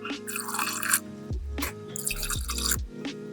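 Water poured into a bowl for sourdough pretzel dough, heard as short splashing bursts and drips separated by brief pauses, close and fairly clear.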